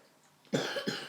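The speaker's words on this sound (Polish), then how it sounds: "musi tu siedzieć i y, kaszleć, bo jest chory" A sick person coughs twice, close by and loud, in a room during a Rummikub game, each cough a rough, throaty burst separated by a short pause.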